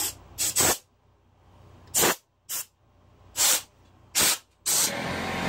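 Short sharp hissing bursts of compressed air spray, about seven of them at irregular intervals, close and fairly loud, ending in a longer steady hiss.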